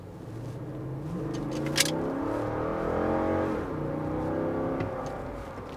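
A 2023 Lexus GX460 Blackline Edition SUV engine revs up with a rising, steady roar, shifting gears as it accelerates hard and pulls away, close by with no talking.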